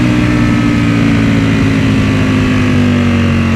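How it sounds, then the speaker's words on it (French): Ducati Panigale V4 Speciale, a 226-horsepower superbike, engine braking as revs drop below 6000, giving a steady loud low engine drone with a falling tone, close and continuous with no talk. "dès que je descends en dessous des 6000, le frein moteur, ouais, il vous arrête net"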